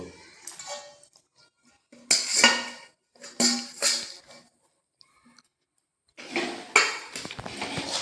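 Semolina dough is scraped out of a metal wok onto a plate with a spatula, giving several close, harsh scraping and clanking bursts separated by short silent pauses.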